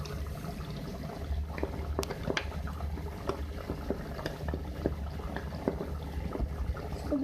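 A pot of chicken and potato curry simmers, giving soft low bubbling with scattered sharper pops and plops, faint and close, with no voices.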